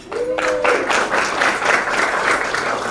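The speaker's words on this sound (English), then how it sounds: "let's give them a round of applause" Audience applause at a community ceremony, a sustained loud burst of many hands clapping together, briefly preceded by a short tonal sound before the clapping swells and holds.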